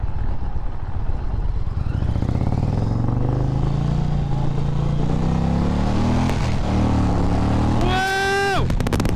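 An Indian Challenger motorcycle accelerates hard, its engine tone climbing steadily and loudly under heavy wind rush, then dipping and surging again as it revs through the gears near the end.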